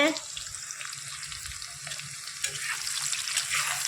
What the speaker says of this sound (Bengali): এখানে আলু ভাজা হচ্ছে